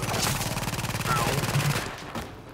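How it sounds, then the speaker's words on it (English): An enemy sentry gun in Tom Clancy's The Division fires a rapid, loud automatic burst of evenly spaced shots for about two seconds, then fades into a short tail. "Oh god, sentry gun. Enemy sentry."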